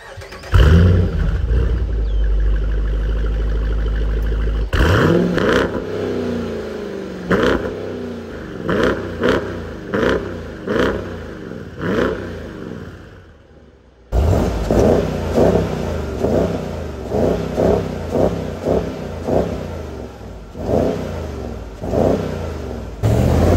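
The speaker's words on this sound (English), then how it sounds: "let's start her up and listen to that glorious V8 engine" A big 2023 Dodge Durango R/T HEMI V8 engine cranks and fires up with a loud roar, settles into a rumbling idle, then revs repeatedly in sharp bursts, with a brief pause between.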